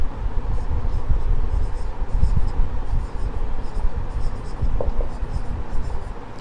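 Chalk or marker scratching across a classroom board during an accounting lesson, a steady dense scraping texture running throughout, fairly close, with no clear talk over it.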